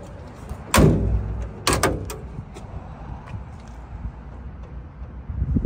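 Doors of a 1974 Volkswagen Thing being shut, two solid thumps about a second apart, close and fairly loud, followed by faint rattles and low background noise.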